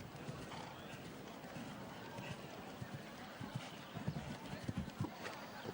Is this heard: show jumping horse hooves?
yes